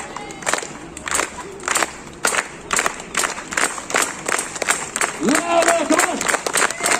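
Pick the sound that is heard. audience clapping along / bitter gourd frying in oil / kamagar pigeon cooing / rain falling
audience clapping along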